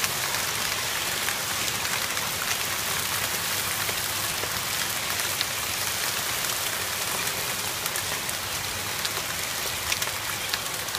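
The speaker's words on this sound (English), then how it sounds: "seen hail fall like this before." Dense, steady hail and rain pound down throughout a severe thunderstorm in Middleport, Ohio, a continuous close hiss and patter of stones striking surfaces with no speech.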